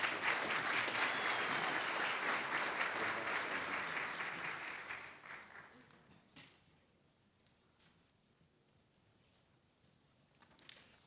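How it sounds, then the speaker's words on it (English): A convocation audience applauds chamber singers with dense, sustained clapping that fades out after about five seconds, leaving near silence with a few faint stray claps. "Give them another round of applause."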